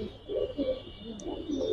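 A pair of Giribaz pigeons coo in soft, low, repeated rolling calls, close and unobscured, with a faint steady hum behind them.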